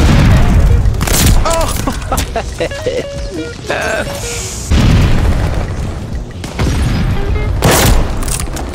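Sniper rifle shots in a first-person shooter game, a few heavy booming cracks spread several seconds apart over busy game noise, with a voice talking and exclaiming throughout.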